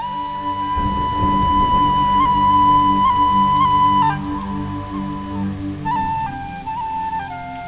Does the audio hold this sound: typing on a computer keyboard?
no